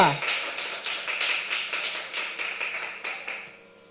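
A church congregation claps together as an offering to the Lord, a fast, rhythmic run of hand claps at moderate distance that thins and fades after a few seconds.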